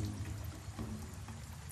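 Water poured into a vessel sealed with wet mud in a point-and-click treasure-hunting game, a continuous soft splashing pour, close and steady, with no voices.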